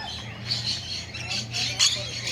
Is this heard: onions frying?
no